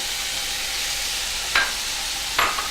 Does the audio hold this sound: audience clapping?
no